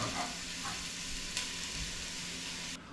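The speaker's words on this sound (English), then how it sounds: "get some onions sweating down with about 4 tablespoons of butter in a medium pan" Onions sweating in about four tablespoons of butter in a medium pan give a soft, even, continuous sizzle with a couple of faint clicks, cutting off abruptly near the end.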